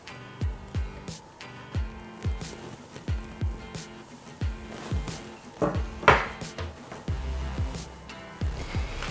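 A spatula scrapes and knocks against a bowl and baking dish while moving sticky sugar cookie dough, a steady series of close clinks and taps with no one talking.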